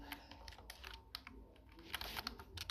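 A name is typed on a computer keyboard, giving scattered, crisp key clicks in short irregular runs, close but soft against a quiet room, with no speech.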